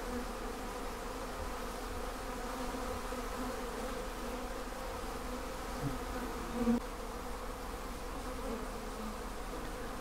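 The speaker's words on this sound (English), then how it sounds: "show the bees and wasps kind of cooperating here at the drinkers" A steady, faint buzzing of many honey bees and wasps of several species hovering close by at sugar-water drinkers, a low continuous hum with no voices.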